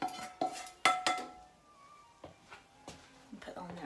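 Kidney beans tipped into a hot pan, giving a few sharp clattering knocks and clinks of cookware followed by quieter scraping and stirring sounds, close and fairly soft, with a voice talking over parts of it.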